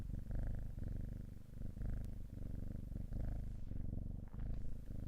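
A synthetic cat-purr-like sample from the Quietmusic VST instrument, played as a steady, low, rumbling purr with a regular pulsing texture that carries on continuously for several seconds, close and clear with no talking.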